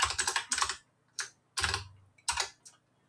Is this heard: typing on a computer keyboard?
yes